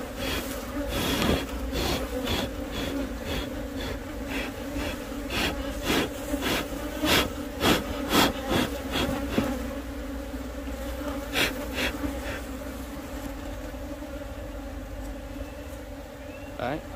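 A strong honeybee colony hums steadily in the hive, with tapping and knocks from the hive frames along with it, while a person speaks.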